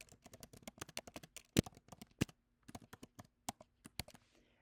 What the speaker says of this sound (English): Now I'm going to type in this.